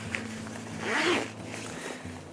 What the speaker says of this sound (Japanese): 脇下のベンチレーションと同じタイプのジッパーですね。